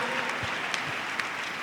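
Congregation applauding during a French and Swahili church service, a steady wash of clapping from many hands with a few sharper individual claps standing out.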